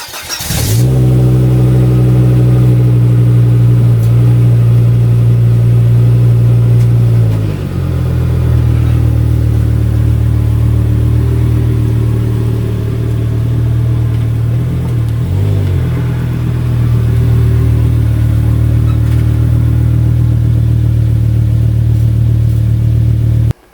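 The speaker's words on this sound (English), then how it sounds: "Let me try scooting the car back a little bit and then moving it forward" A car fitted with BC Racing coilovers runs steadily while it is eased backward and then forward. The engine gives a loud, close, continuous hum whose pitch and tone shift twice as the car moves.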